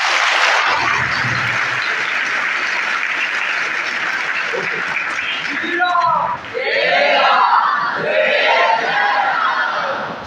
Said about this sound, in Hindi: तो एक बार हम लोग जोरदार तालियां बजा दें तिरंगे के लिए।